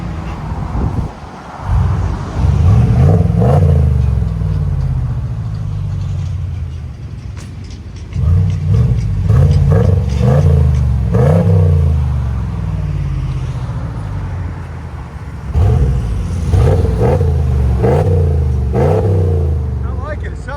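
The deep V8 exhaust of a 2022 RAM pickup with a 5.7L engine rumbles and revs up repeatedly, rising and falling in loud surges, with people talking over it at times.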